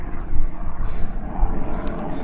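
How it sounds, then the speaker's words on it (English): A helicopter approaching over the Exmoor hills near Dunkery Beacon, a steady low rumbling drone of rotors and engine carrying across open moorland, fairly loud and continuous with no talking. "Helicopter's coming."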